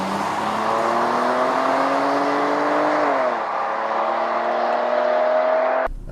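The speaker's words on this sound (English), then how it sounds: "I'm just gonna give it just a little tiny bit of torque, up to about 1100 RPM, and go" A 2015 Chrysler 200 pulls away from a standstill, its engine note rising steadily in pitch for about three seconds, then shifting down and climbing again, loud and close, before cutting off sharply at the end.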